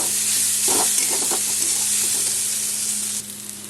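Pointed gourd, potato and onion fry in a pan with a loud, continuous sizzle. A few soft stirring scrapes come early, and the hiss drops slightly near the end.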